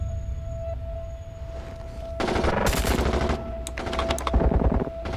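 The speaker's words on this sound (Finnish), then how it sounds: "Asematasolla ammuta." Gunfire at an airport apron in a dramatized radio scenario, with bursts of rapid machine-gun-like shots that erupt partway through and repeat in loud clusters over a constant tonal hum, with no talk.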